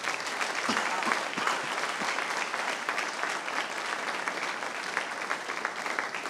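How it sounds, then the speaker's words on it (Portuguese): A church congregation at an evangelical Quadrangular service applauds, a steady even wash of many hands clapping from start to finish, fairly distant and moderate in level. "E nós vamos dar nossa melhor salva de palmas ao Senhor."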